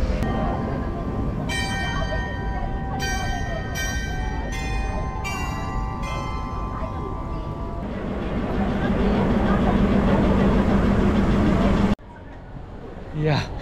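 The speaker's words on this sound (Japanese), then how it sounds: "トロッコ電車すげえ" Sagano trolley train in Kyoto riding along the track, a steady rolling rumble and rattle with repeated bell-like metallic rings, continuous and close throughout.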